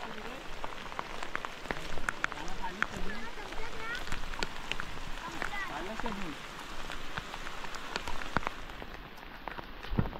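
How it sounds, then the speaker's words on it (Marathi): Steady rain pattering on surfaces outdoors during a meal gathering, a dense continuous patter with sharp drops, while people talk faintly underneath. "पाऊस लागतोय."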